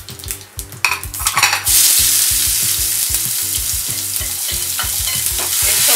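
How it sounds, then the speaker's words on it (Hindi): Cumin and onion hit hot oil in a pan for a Schezwan fried rice, a few stirring clatters and scrapes first, then a loud, continuous bright sizzle takes over and keeps going with rhythmic spoon scrapes underneath. "तेल अच्छे से गर्म हो गया है, हम डालते हैं जीरा। इसमें डालते हैं प्याज।"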